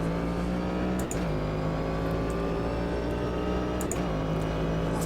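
Race car engine in the Automobilista 2 sim racing game from the Racin' USA pack, a steady in-game drone with held harmonics and two brief shifts in pitch, continuous and moderately loud with no talking.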